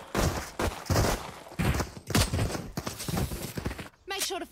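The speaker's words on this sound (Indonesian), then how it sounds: "Coba aku nembak ini cok." Repeated loud bursts of gunshots from a video game come in irregular clusters, with a voice speaking briefly near the end.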